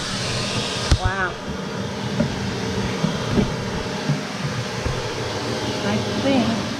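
A vacuum hums steadily and close as it sucks dirt out of an RV air conditioner. A brief voice rises over the drone near the start.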